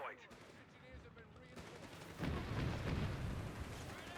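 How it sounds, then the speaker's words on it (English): Forward mortar barrage in Company of Heroes 3: a burst of gunfire-like shots, then a louder run of heavy, rumbling impacts that begins partway through and keeps going, with a commentator's voice over it. "that's the captain doing that forward mortar barrage"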